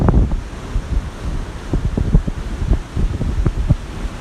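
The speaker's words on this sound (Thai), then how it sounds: "ให้ดูว่ากระแสลมมันแรง ปักพงไว้ไม่ให้ว่ายน้ำ" Strong wind buffets the microphone at the seaside on Koh Chang, a continuous loud roar with gusty low thumps and rumbling bursts throughout.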